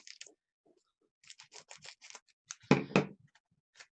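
Scissors snipping through trading card pack wrappers, a close series of quick, crisp cuts in uneven bursts followed by a louder crinkling clip near the end, with no voices.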